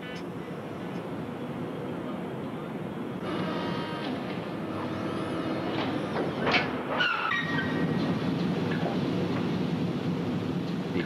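A freight train hauling oats down from the Canadian prairies rumbles past with steady rolling noise and metallic squeals and clanks, loud and continuous throughout.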